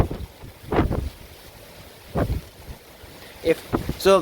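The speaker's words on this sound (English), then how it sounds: "if I stick my camera out there, it gets whipped by the wind" Strong tropical storm winds from Tropical Storm Cristobal on Dauphin Island, Alabama, buffet a camera microphone in heavy rumbling bursts, with calmer gaps between the gusts.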